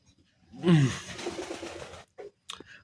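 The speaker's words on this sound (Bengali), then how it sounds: "ওদেরকে খাবার দিয়েছিলাম, তো ওরা খাবার খাচ্ছে। এ হলো আমার কবুতর।" Pigeons in a home coop coo softly and close by as they eat food. A couple of short vocal bursts are followed by faint rustles and pecking noises, with no talk.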